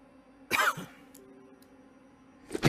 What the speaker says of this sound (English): Hey, you know what doesn't help you in a zombie apocalypse? Random fucking coughing.